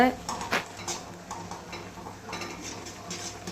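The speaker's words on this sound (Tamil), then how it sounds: "இப்போ இதை கிளறி விடணும்." A spoon stirs Maggi noodles with three masala packets in a pot, making steady scraping and clinking against the metal with a faint sizzle, close and moderately loud.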